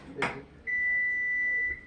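A kitchen timer gives one long, steady electronic beep for about a second, preceded by a brief clatter, in a home kitchen during candy making.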